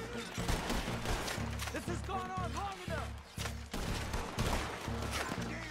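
Gunfire in the western video game Red Dead Redemption 2, with loud repeated shots and crashes over a dense, busy game soundscape.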